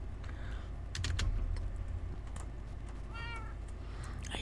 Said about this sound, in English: I hear kitties.